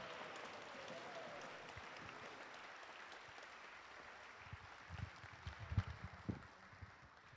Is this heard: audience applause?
yes